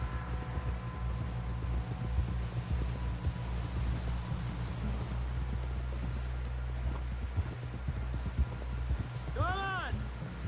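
Horse hooves clip-clop at a steady walk in Red Dead Redemption 2 over a low rumbling in-game ambience, with a brief whinny-like call near the end.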